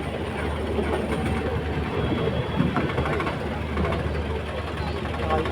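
The Padatik Express train rumbles along the rails with steady clattering and a low engine drone, heard from inside a coach, with people talking faintly beneath.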